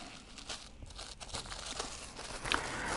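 A plastic seed packet is handled and crinkled up close, with soft irregular rustles and crunches and a slightly sharper crackle near the end, fairly quiet and with no speech.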